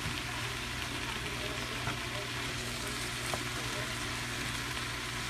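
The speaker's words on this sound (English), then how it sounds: "So I'm just gonna let the cabbage cook down" Chopped cabbage sizzles and cooks down in a hot pan, a steady, moderately quiet frying hiss that runs without a break, with a few faint clicks.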